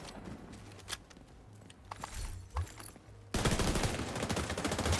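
Rapid gunfire from a video game: scattered shots first, then from about two-thirds through a dense, loud, sustained burst of automatic fire close up, with no talking.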